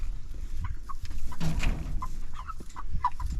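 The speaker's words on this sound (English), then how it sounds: "chickens are already coming up looking for a drink out of it." Several chickens cluck and murmur close by as they gather at a water feeder, in short, scattered bursts over a low rustling background, with no talking.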